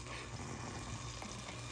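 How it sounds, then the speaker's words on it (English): Oil poured into a pan on the stove while cooking a Guyanese brown stew chicken sauce, a soft, steady hiss and gentle sizzle that holds evenly throughout, faint and close, with no talking. "Gonna pour some oil"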